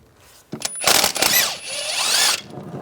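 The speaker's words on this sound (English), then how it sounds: "Now we're going to take this bracket off using a 16mm socket." A power tool with a 16mm socket spins out a bracket bolt on a 1998-2010 Volkswagen Beetle, a close whirring burst of about two seconds that rises and falls in pitch, with no talk.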